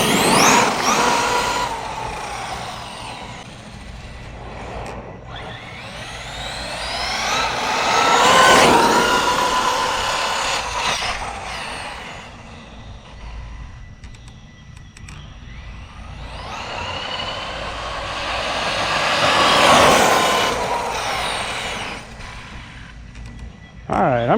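An Arrma Kraton RC truck with a stock brushless motor, stock ESC and optional 16-tooth pinion makes high-pitched electric whines that rise and fall in repeated passes, swelling as it speeds near and fading away between runs.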